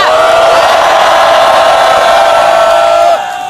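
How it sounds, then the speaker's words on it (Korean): A large rally crowd cheers and roars in a loud, sustained wall of sound, with a steady sustained tone riding over it, before dropping off sharply near the end. "전현희 최고위원님께 다시 한번 큰 박수와 함성 부탁드립니다"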